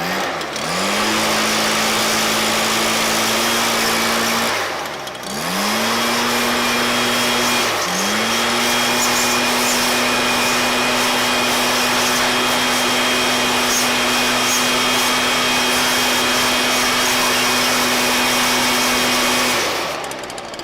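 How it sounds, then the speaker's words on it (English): A leaf blower clears bees from honey frames during a hive harvest, its loud, steady motor roar running close up and briefly dipping in pitch twice early on before resuming. "So we'll get this blower going and show you how that works."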